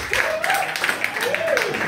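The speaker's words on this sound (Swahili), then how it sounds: "Hiyo sio makofi mazuri ya msanii." A church congregation claps for an artist at a Vision and Victory in Jesus Christ Church service. The steady, scattered clapping runs under a loud voice that carries over it.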